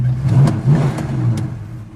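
A classic 1968 Dodge Charger with a mid-range engine revs in a few loud, close pulses, rising and falling over a steady idle, with no talking.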